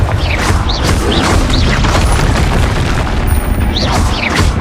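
Repeated Confringo fire spells from Hogwarts Legacy burst as loud, dense booms and crackling blasts, overlapping continuously with whooshing casts and no pause in the barrage.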